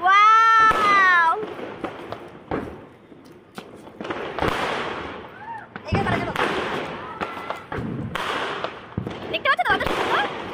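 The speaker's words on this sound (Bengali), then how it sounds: "কি সুন্দর দেখেছো তো কত বাজি ফাটছে" Fireworks and firecrackers burst on New Year's Eve in a rapid string of sharp cracks and pops, some close and loud, others farther off, while people talk excitedly throughout.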